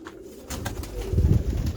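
Large pigeons perched on a rainy day give soft, low cooing calls close by, rising in the second half over a faint background hiss, with no talking.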